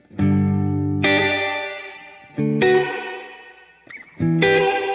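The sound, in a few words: UAFX Golden Reverberator spring reverb with wow and flutter modulation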